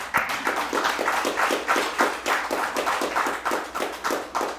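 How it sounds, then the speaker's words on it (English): Steady applause from a crowd at a sober lounge event in Omaha, Nebraska, many hands clapping continuously at a fairly loud level with no talking over it. "y'all can clap for that"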